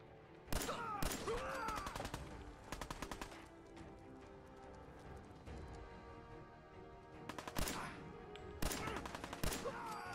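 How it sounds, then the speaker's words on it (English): Gunfire from the video game Fallout 4: repeated bursts of shots and sharp cracks crowd the clip, loudest in clusters near the start and near the end, over a steady game background with no talking. "Who's shooting me?"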